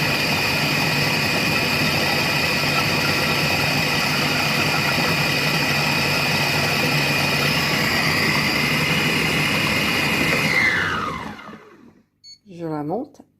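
A Compact Cook Pro multicooker blends egg and coriander soup at speed 6, giving a loud, steady motor whir for about eleven seconds. The motor then winds down to a stop, and a voice speaks briefly afterward.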